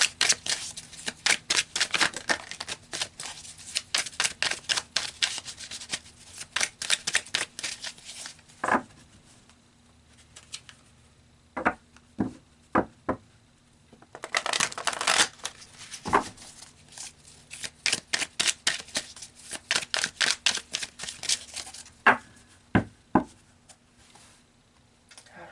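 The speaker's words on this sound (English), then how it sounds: "So let's pull some more cards" Tarot cards shuffled and drawn by hand in a quiet room, with bursts of rapid papery riffling and flicking, short pauses between shuffles, and a few sharp single snaps as cards are pulled.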